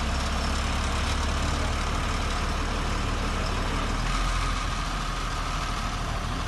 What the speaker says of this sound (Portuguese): Aí, ó, o caminhão jogando a massa, ó.